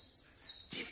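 Three short bright chirps from a common chiffchaff, evenly spaced, clear and fairly close, with no voices over them.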